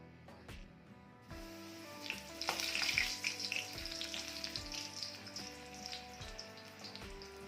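A batter-coated spinach leaf for pakoda drops into hot oil and sets off a sudden, dense crackling sizzle after a quiet second, holding steady and close over soft tonal background music.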